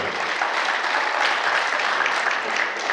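Audience applauding at a KVN comedy contest at a university stage in Buryatia, steady dense clapping filling the hall for the whole stretch without a break, loud and close.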